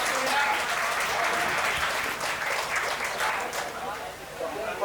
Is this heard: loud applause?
yes